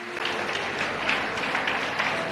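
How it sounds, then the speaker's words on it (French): A church congregation applauds at a French-language worship session, a steady wash of clapping that holds at an even level for a couple of seconds, somewhat distant and diffuse. "Applaudissez-le."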